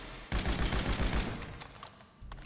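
Rapid gunfire at the Ammu-Nation shooting range in the video game GTA V: a dense, loud burst of shots for about a second that fades into a short tail, with another shot starting at the very end.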